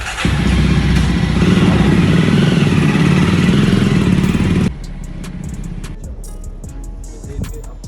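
A motorcycle being ridden out for delivery roars loudly and close for about five seconds, then drops to a quieter engine rumble with light clatter as it eases off.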